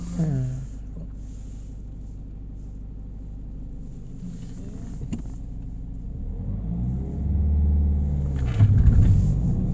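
Car engine idling low and steady as the clutch is released, the rumble swelling louder toward the end as it pulls away, with faint talk in the background.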